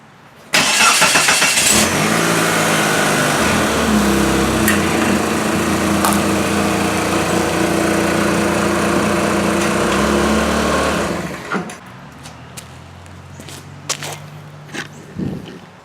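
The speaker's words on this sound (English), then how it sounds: "I guess I could run it over with the car." A car engine revs loudly and steadily up close as the car is driven over tree nuts in a yard, holding for about ten seconds before dropping to a quieter idle with scattered knocks.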